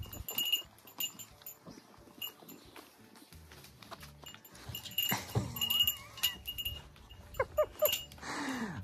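Goats in a barn: sporadic bleats and snorts, some close and some farther off, with shuffling, knocking and rustling between them.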